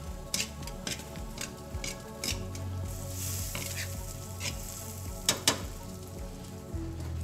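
Shallots sauté gently in a pan for a sauce, a quiet steady sizzle broken by scattered clicks and scrapes of a utensil stirring.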